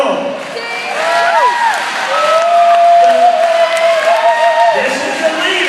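An audience at a church burping contest cheers and whoops for a female contestant, with loud crowd shouts and rising, sustained whoops.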